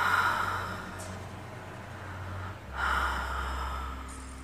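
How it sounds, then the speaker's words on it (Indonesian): Heavy, close breathing heard from just above someone's head, made of long, loud exhales with a breathy hiss and a short snort-like gap between two breaths. "suara hembusan nafas itu terdengar jelas dari atas"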